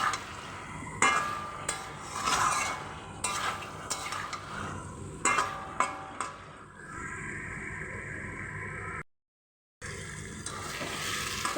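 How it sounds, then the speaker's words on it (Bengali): New potatoes are stir-fried with spices in a pan for Bengali alur dom. A spatula scrapes and knocks sharply against the metal, then a soft continuous sizzle runs on alone after the stirring stops, with a brief gap of silence. "খুব ভালো করে মশলার সঙ্গে আমি একটু কষিয়ে নেব।"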